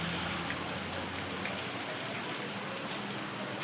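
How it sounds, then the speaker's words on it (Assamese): Light rain falls on a mountain road toward Kedarnath, a steady soft hiss of drizzle with no voices. "এতিয়া বৰ্তমান অলপ অলপ বৰষুণ দি আছে"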